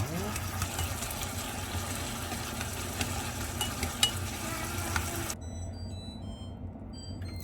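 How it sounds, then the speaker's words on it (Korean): Japchae glass noodles being stir-fried in a pan, a steady broadband sizzle and scraping that runs loud for several seconds, then cuts abruptly to near-quiet with faint tones. "다 볶으셨으면 바로 이제 면을 또 볶아주도록 할게요"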